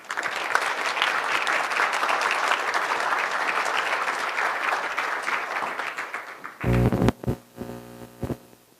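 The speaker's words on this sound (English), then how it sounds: "Please give a round of applause again to our two presidents." Sustained audience applause fills a conference hall after a Taiwan–United States geopolitics discussion honoring two presidents, a dense steady wash of clapping that fades before a few louder thumps and handling noises near the end.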